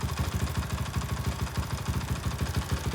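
A 2008 Honda ATC450X trike with a BVC conversion idles steadily up close, its engine throbbing in a rapid, even pulse that continues throughout with a slight clattery edge and no talking.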